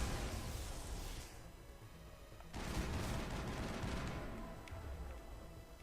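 Dense sustained gunfire from the Mass Effect video game on Ilos, a continuous loud roar of shots that thins briefly before another heavy burst swells and carries on steadily.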